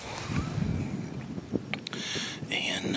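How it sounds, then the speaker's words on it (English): Gusty wind buffets the microphone on a mountain during deer season on a November opening day, a steady broadband rush with louder surges, while someone speaks briefly over it. "the wind is horrible today"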